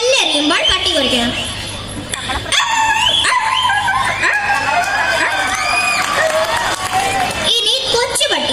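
A person imitates a dog yelping after being hit by a thrown stone, with sharp rising yips and whining cries repeated in rapid bursts, loud and near.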